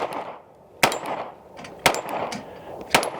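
Three sharp, loud pistol shots from a Springfield Armory Hellcat Pro Comp OSP, spaced about a second apart, each cracking out over an otherwise quiet outdoor range.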